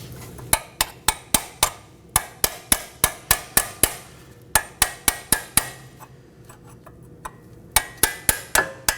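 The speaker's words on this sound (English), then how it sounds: "I'll be using a chisel and hammer to strike it off." Sharp metallic hammer blows on a chisel ring out in quick, regular succession while knocking off a metal brake hose clip on a Nissan Maxima, a brief pause, then another burst of strikes, close and loud.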